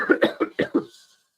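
A short burst of five quick coughs in rapid succession, close and fairly loud, trailing off into a faint breath.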